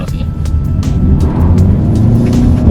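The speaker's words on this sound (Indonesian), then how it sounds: "Oke, kita coba ya akselerasinya." A Toyota Veloz Hybrid with its new hybrid engine accelerates on a test drive, a loud, steady cabin drone of engine and road noise with faint voices beneath.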